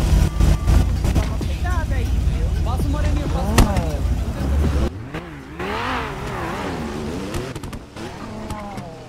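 Car engine revving and accelerating in GTA roleplay gameplay, loud and steady with rising and falling pitch sweeps, beneath frequent talking voices.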